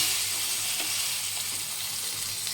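Flat beans fry in a pan with a steady, close sizzle that holds through the whole stretch, along with faint stirring and no voices.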